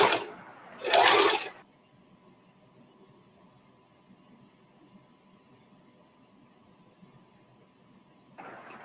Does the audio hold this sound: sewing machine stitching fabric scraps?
yes